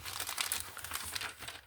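Packaging of a cross-stitch kit being handled and opened, giving close, continuous crinkling and rustling of plastic and paper with brief crunchy bursts throughout.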